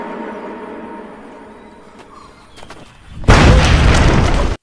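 A thrown explosive in a film goes off in a sudden, loud blast that follows a quiet stretch with faint scattered sounds, the roaring boom filling the last second or so before cutting off abruptly.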